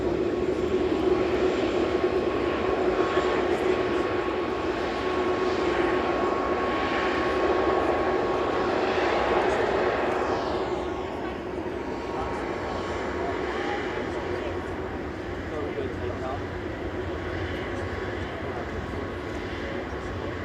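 A seven-year-old Singapore Airlines Airbus A350-900 departs from runway 05 left at Manchester Airport, its engines a steady moderate roar that fades partway through.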